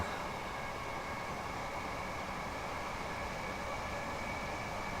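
A Class 375 electric train running in Train Simulator, a steady broadband rumble and hiss of traction and rolling wheels, continuous and even in level with no clear talk.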